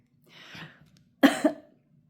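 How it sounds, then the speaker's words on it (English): A soft breathy exhale, then a close, sharp double cough in quick succession, followed by quiet. "Uh-oh, I'm going to cough."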